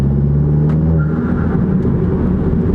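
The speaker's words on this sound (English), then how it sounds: "turbo surge sounding amazing" A 350-horsepower VW GTI pulls hard under acceleration with its turbo surging, a loud, close, steady engine roar with a rising whoosh of boost and brief sharp pops over the top.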